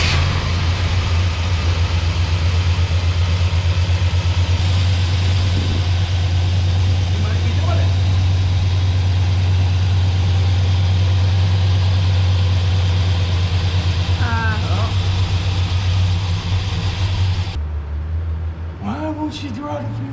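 A patina Dodge Sweptline pickup engine turns over and settles into a loud, steady, low idle that continues for most of the clip, then cuts off near the end as people talk briefly.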